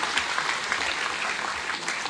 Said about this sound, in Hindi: आप लोग थोड़ा सा ताली मार दीजिए